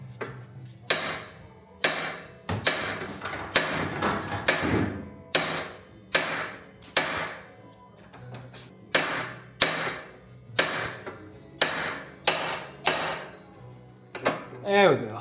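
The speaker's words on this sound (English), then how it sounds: "we're gonna go ahead, smack it with a hammer" Sharp metallic hammer blows strike a car's ball joint repeatedly in uneven bursts, close and loud, some in quick pairs, with brief pauses between.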